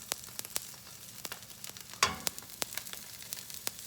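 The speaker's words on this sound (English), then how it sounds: "I'm gonna add just throw in the garlic." Garlic hits a hot pan beside salmon and bursts into a sharp crackling sizzle midway, surrounded by scattered pops and clicks of frying, close and fairly quiet.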